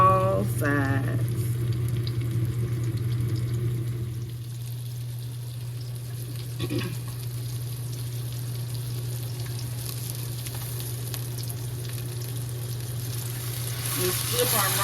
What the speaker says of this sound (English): And we are searing our roast. And we're going to sear it on all sides.